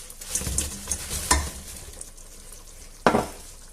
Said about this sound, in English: now I will add the potatoes in